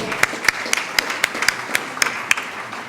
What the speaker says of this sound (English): Give them two a round of applause